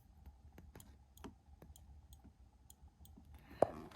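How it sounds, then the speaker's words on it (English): A front brake light switch on a 2018 Kawasaki H2 SX clicks repeatedly, with small, quiet, close-up ticks in an uneven rhythm and one sharper click near the end. "And you can hear the switch clicking."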